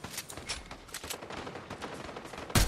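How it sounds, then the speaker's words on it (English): Rapid gunfire in Fortnite, a dense burst of overlapping shots at moderate distance that ends in one louder close blast. "Somebody's shooting them."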